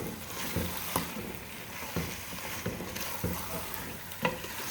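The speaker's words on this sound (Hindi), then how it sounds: "मीडियम फ्लेम पर हम फ्राई करेंगे" Chicken fries with onion and ginger garlic paste over a medium flame, giving a steady close sizzle broken by repeated sharp clatters of stirring, with no one talking.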